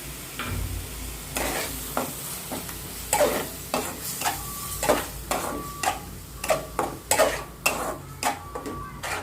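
Ginger garlic paste fries with onion masala in a pan for paneer curry, a steady oily sizzle broken by repeated scraping and clinking stirs of a spoon against the pan.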